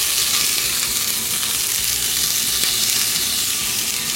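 Chopped chilli, onion and garlic sizzle loudly in hot oil, a dense, continuous close-up frying hiss with no voices.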